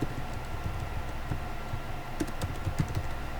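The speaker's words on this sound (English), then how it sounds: "just type something like Google" Typing on a computer keyboard, scattered clicky keystrokes with irregular rhythm, sparse at first and then a quicker cluster of taps, fairly close over a quiet room background.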